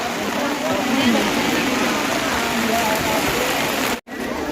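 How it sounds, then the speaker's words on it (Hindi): Heavy rain pours down steadily in a dense, hissing wash at the Narsinghnath temple fair, close and loud, with a brief dropout near the end. "बारिश देखो क्या झमाझम बारिश हो रही है"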